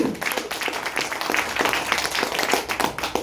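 Audience applause at a talk, a steady wash of many hands clapping at moderate volume with a few sharper claps standing out, no voices over it.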